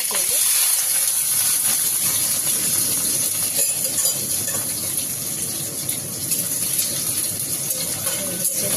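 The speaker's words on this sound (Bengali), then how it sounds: "তো আমি এইগুলো একটু নাড়াচাড়া করে নেবো তেলে।" Ingredients stirred in hot oil, making a loud, continuous hissing sizzle that stays steady throughout, with low rustling movement beneath it.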